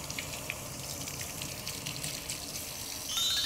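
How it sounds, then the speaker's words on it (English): Warm tap water runs steadily as hands are rinsed under it, a close, constant hiss and splash with no talking, swelling slightly louder near the end. "Now I'm going to rinse thoroughly with warm water again, making sure to rinse"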